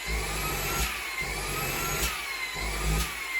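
LEVOIT LVDC200 cordless vacuum cleaner running steadily with a continuous whirring motor whine and faint rhythmic swells in its pitch, close and alone with no talk.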